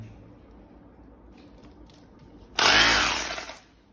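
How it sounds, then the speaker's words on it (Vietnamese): A corded hammer drill is switched on after a quiet stretch, bursting into a loud, close, high whining roar that holds for about a second before winding down. "cho các bác nghe thử tiếng máy luôn con này nhá"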